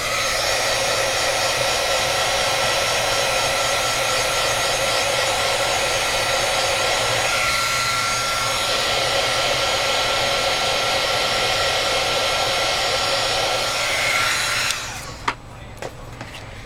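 A hair dryer blows steadily to dry a handmade Christmas card, a loud, continuous close-up whoosh that runs unbroken for most of the time before cutting off near the end.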